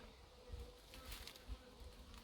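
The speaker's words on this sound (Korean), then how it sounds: "오늘은 통마다 자리벌들이 많이 다닙니다." Native honeybees fly around hive boxes on a pine-mushroom mountain, giving off a continuous soft buzzing from many insects with a few louder passes close by.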